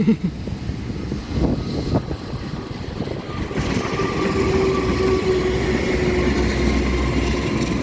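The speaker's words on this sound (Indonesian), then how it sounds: "Segera masuk kereta api Sembrani." The Sembrani passenger train arrives at a station, its low rumble and clattering wheels building into a steady roar, with a thin squeal of wheels or brakes drawn out over the approach.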